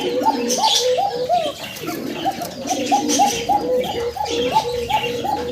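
Pigeons coo in a steady, repeated series of rolling calls close by, joined by a few higher chirps, with no talking.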